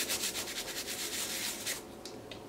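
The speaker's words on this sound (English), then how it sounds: "Like to just scrub away the dust so I can see what I'm working with." Dust is scrubbed off a surface with quick, rhythmic back-and-forth rubbing strokes, soft and close, slowing and stopping near the end with a light tap.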